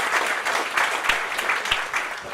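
An audience at a Stonebridge annual meeting breaks into applause, a brief burst of dense clapping heard close and fairly loud, rising and easing over a couple of seconds.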